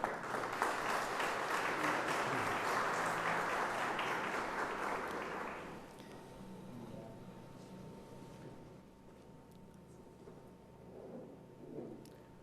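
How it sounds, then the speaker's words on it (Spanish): An academic event audience in a hall applauds its invited guest speakers, a dense, loud wash of clapping for about six seconds that fades away, followed by low room murmur and a faint tone. "Y pido un aplauso para ellos,"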